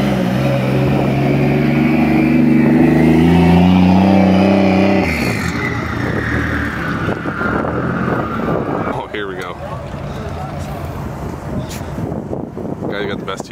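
A 2JZ-swapped BMW E46 wagon's engine revs loud and high while driving, climbing in pitch before dropping off, then settling into a lower running drone with wind buffeting and a voice speaking over it.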